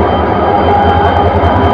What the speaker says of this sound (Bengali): এই যে ট্রেনটি কমলাপুর রেল স্টেশন থেকে ছেড়ে যাচ্ছে জয়দেবপুরের উদ্দেশ্যে।